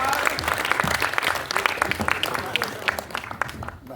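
Spectators at a stage show by Les Mutins in Ambert clap for the performers, with distinct nearby handclaps over broader applause, tapering slightly toward the end while voices murmur underneath.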